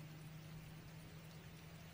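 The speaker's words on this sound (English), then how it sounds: "we are still waiting for the rain to stop" Steady rain falls outdoors in a county park, a dense, even hiss with a low constant hum beneath it, continuing unbroken with no voices.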